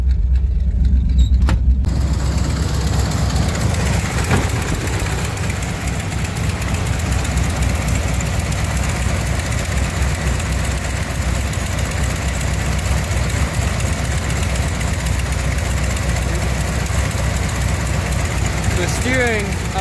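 A newly bought truck's engine idles steadily and continuously, a low rumbling drone held at an even level with no change in pace.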